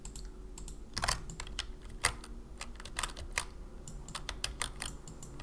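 Keyboard keys and mouse clicks at a computer, a quick, irregular run of crisp clicks and taps, some in short bursts, close and clear over a faint hum.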